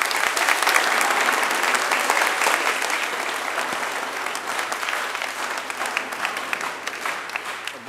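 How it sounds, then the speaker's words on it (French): Audience applause for Father Samuel, a departing priest, at a farewell gathering; sustained dense clapping from a crowd fills the whole stretch, loud and steady, easing slightly toward the end. "On peut l'applaudir déjà ?"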